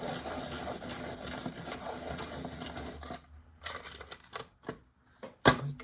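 A mineral orange colored pencil is sharpened at a desk: about three seconds of continuous close grinding, followed by a few scattered clicks and taps and one sharp knock, with no talking.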